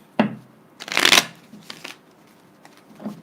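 Tarot cards being shuffled by hand, a few quick riffling bursts close up with short pauses between them, no voices.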